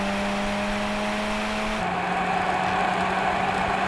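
VW Golf GTI, Golf R and Clubsport launch side by side in a drag race: a loud, sustained engine whine and rising roar as the cars pull away, with a gear change near the middle.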